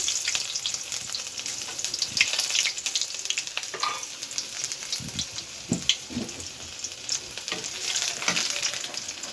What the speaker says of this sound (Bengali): পেঁয়াজটা হালকা একটু লাল করে ভেজে নিয়ে মশলাগুলা দিয়ে কষাবো